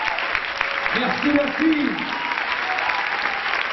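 Applause from an audience at a comedy show in Bagnols-sur-Cèze, a steady clatter of clapping while someone briefly speaks over it.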